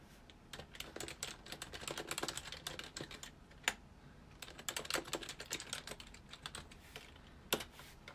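Rapid clacking of keys on a computer keyboard, close and fairly loud, in uneven bursts with a few sharper louder strikes and brief pauses, no voices.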